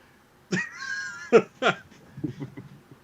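A house cat meows in a clear drawn-out call followed by a few shorter mews, close to the microphone in an indoor room, with no talk over it.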